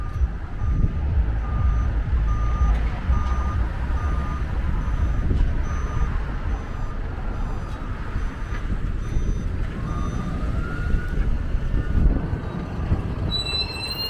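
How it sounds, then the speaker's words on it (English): A busy forklift truck sounds its reversing alarm in an industrial yard: a steady, evenly repeating beep carried over a constant loud rumble of machinery and traffic. "Definitely a busy fork truck driver anyway."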